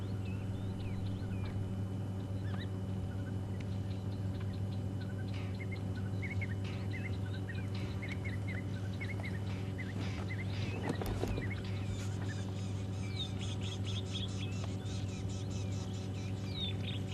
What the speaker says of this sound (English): Beautiful, just listening to all the bird sounds.